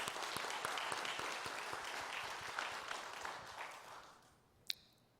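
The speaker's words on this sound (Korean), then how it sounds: "우리 박용수 장로님을 또 박수로 한번 환영하겠습니다." Applause from a congregation at a Korean prayer meeting welcoming a church elder, dense clapping that fades out over several seconds, ending with a single sharp tap in near silence.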